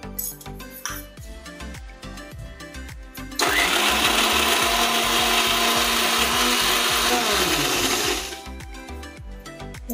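A kitchen mixer grinder whirs loudly for several seconds as it grinds coconut, onion and garlic into a paste, its steady high motor roar rising abruptly and then cutting off.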